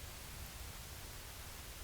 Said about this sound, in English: White noise and darkness.